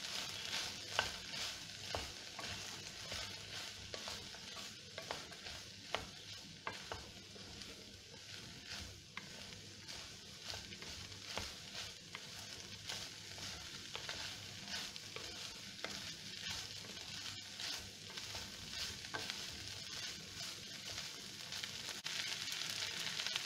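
Fried beef being stirred into chilli beef in a pan, a continuous sizzle with repeated scraping and stirring strokes, close and unbroken for the whole stretch, without any voices.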